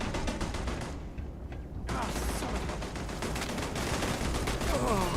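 Sustained rapid gunfire aimed at a turret in the video game Starfield, a dense, loud stream of shots with a brief lull before the barrage resumes and continues to the end.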